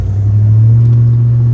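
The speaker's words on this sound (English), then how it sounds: "Z06 that just passed us up" A Corvette Z06 sports car passes on the road, a steady loud low engine rumble that holds evenly throughout from inside a moving 1992 Ford Mustang GT 5.0.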